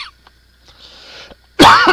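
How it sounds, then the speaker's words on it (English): After a near-silent stretch with faint rustling, a person with a cold lets out one loud, close, throaty cough. "I have a cold, so I may cough."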